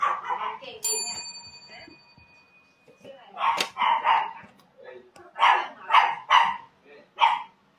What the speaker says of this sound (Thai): หมาเริ่มเห่าละ